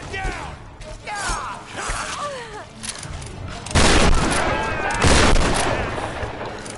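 Shotgun blasts ring out in the video game Tomb Raider in the Shantytown area, two heavy booming shots amid game effects and background noise, with a player talking over the action.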